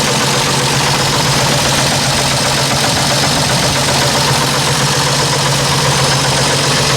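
The flathead engine of a Willys Wagon, fitted with added power steering, idles loud and close with a rough, knocking rumble that stays steady throughout and has no talk over it.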